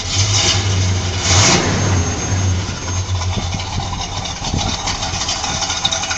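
A car with a full twin exhaust revs up from idle, throaty bursts rising and falling close by, then settles into a rougher, uneven idle with occasional blips.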